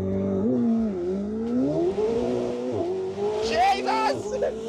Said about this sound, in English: So launch control.